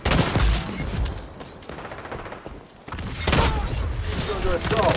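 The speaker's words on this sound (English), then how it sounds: "I'm shooting plastic bullets, Paddy." Video game gunfire firing plastic bullets, with rapid bursts and thuds at the start and a louder flurry of shots near the end, sounding close over a busy in-game background.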